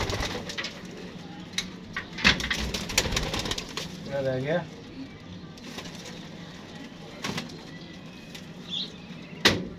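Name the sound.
golden pigeons cooing on a rooftop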